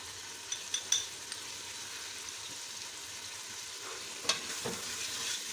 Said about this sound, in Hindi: अब इसको मैं अच्छी तरह भून लूँगी।